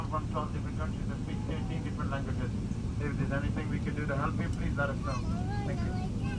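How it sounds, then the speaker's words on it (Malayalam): Inside an airplane cabin on an India-to-London flight, a steady low engine rumble drones as the engines start, beneath people talking close by. "ഫ്ലൈറ്റ് ആക്ച്വലി സ്റ്റാർട്ട് ചെയ്തു."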